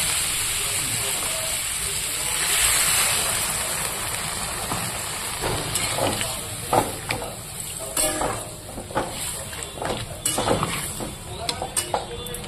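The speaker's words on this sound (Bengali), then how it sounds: "এবার আমি সবজিটাতে জল দিয়ে দেবো পরিমাণ মতো।" Sautéed vegetables in a pan hiss and sizzle after water is poured in, with a steady steamy hiss that gives way to scattered clinks and stirring knocks.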